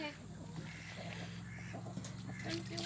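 Backyard chickens cluck and murmur at close range in a poultry pen shared with ducks, the fowl sounds blending with a constant low hum and scattered movement.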